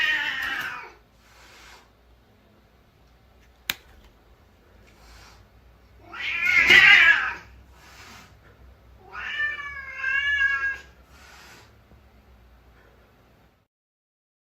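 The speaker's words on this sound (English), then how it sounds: "This is the video of the weird noise Jake's cat made." A two-year-old, ten-pound cat lets out strange, drawn-out caterwauling yowls in separate bursts: a short wail, a louder, longer cry, then a wavering howl, with near-silence between them.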